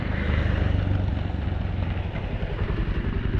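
A motorcycle engine rumbles loudly on a road near Sindhupalchowk, a throbbing mid-pitched drone with rattling that stays close and steady throughout.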